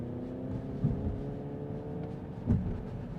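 A 600-horsepower 2025 Hyundai Ioniq 5 N electric car accelerating, a low steady droning rumble with tonal hum heard from inside the cabin, fairly quiet, with two brief bumps in level.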